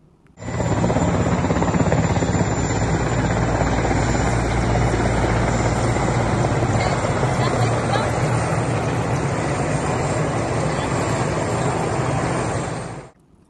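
A helicopter's steady rotor and engine roar holds loud and constant throughout, starting and stopping abruptly, with no other sounds standing out.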